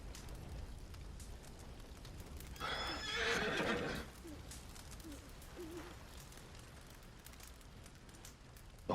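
A horse in the video game Red Dead Redemption 2 gives one short whinny in a quiet campfire setting, with soft hoof sounds and crackling behind it.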